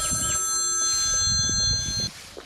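A phone rings with a steady electronic tone for about two seconds, close and clear over faint background clatter, then cuts off.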